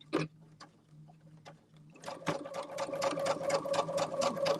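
A sewing machine runs in a home quilting session, first a few scattered clicks as the needle is positioned, then a fast, steady stitching rattle that builds and holds close up to the end.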